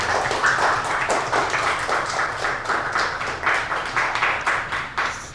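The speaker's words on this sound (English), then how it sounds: "Can we give Matthew a round of applause" Audience applause at a secondary school presentation: steady, moderately loud clapping from a room of listeners that keeps going throughout, with a faint voice briefly audible beneath it.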